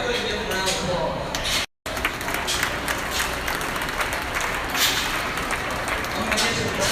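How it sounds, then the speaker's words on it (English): Clapping from a crowd at a swine show, a dense, steady patter of many hands with some murmuring voices mixed in, broken by one brief dropout. "I go ahead and give them a round of applause"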